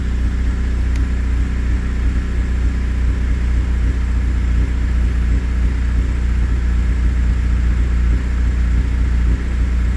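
A Honda Prelude with a running fault idling on a high idle screw while warming up, a steady low engine rumble that holds close and constant throughout, with no talking.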